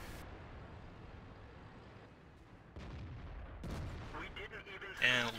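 Tank cannon fire in the World of Tanks video game, shooting at an enemy tank's front plate, with a sharp booming shot near the end over a low rumbling battlefield background.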